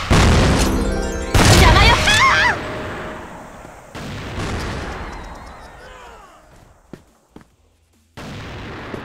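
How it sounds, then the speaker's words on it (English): Flash bomb blast in the video game Crossfire, a loud booming burst followed by a fading ringing tail, with game voices and shouts mixed in and a few sharp clicks near the end. "Flash bomb."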